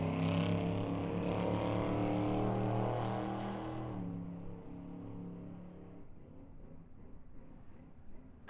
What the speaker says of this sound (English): Sound like Aaron playing with the throttle up there at the big end